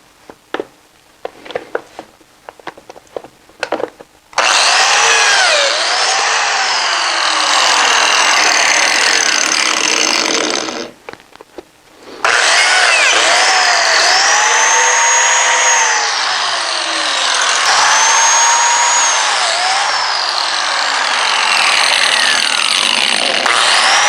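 A biscuit joiner cuts slots in wood pieces for a miter saw station, its high motor whine running loud and close for about six seconds, pausing briefly, then running again for a long stretch.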